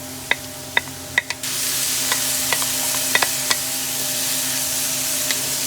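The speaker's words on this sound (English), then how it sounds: "And then you're going to add your cauliflower rice." Cauliflower rice with spices sautés in a pan, a steady sizzle that jumps louder as it goes in, with sharp spoon taps and ticks scattered throughout.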